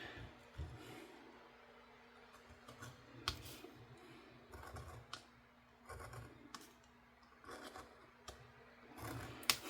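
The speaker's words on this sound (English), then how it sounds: "Let's cut on this cardboard." A retractable craft knife scores across cardboard in a quiet room, giving faint, scattered scratchy cuts and light clicks in short bursts over a low background hum.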